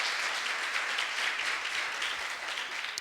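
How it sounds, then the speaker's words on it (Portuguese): A church congregation applauds loudly, a dense, continuous wash of clapping that holds for the whole three seconds. "Esse aplauso foi para mim, agora para Jesus, bem forte."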